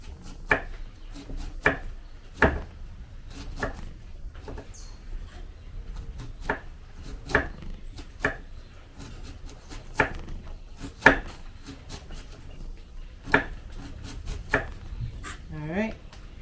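A knife thinly shreds cabbage against a board in a home kitchen, giving crisp, sharp chops at an uneven but steady pace, close and clear over quiet background.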